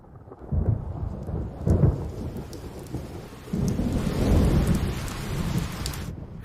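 Heavy rain pours steadily while deep rolls of thunder rumble in two long waves, close and loud.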